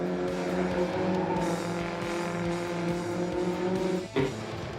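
Race cars accelerating on a circuit, a continuous loud engine drone with a brief dip near the end, no talking.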